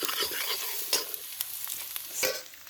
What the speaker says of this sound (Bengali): টমেটো এটা একটু ভাজা ভাজা হয়ে যায়